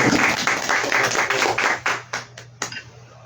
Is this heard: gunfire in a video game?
no